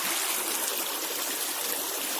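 A clear river stream flows steadily, a close, continuous watery rush and trickle with no voices.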